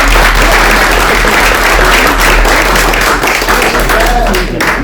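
Conference audience applauding steadily, a dense, loud wash of many hands clapping throughout with no pause, filling the room from start to finish.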